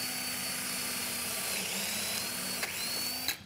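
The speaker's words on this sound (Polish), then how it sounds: "mamy wiertło, które jest wiertłem kaniulowanym, czyli ma światło w środku, więc ja mogę dokładnie po tym druciku wywiercić tutaj sobie kanał." A cannulated surgical drill bores a channel over a guide wire during ankle malleolar fracture surgery, a steady high whine running for about three seconds before stopping abruptly.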